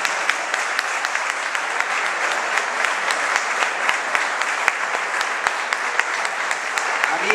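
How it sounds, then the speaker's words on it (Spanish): Festival crowd applause in the Arenales neighbourhood during the 2016 opening proclamation, a sustained, even wash of many hands clapping, with sharp individual claps standing out now and then. "el aplauso también de todos ustedes"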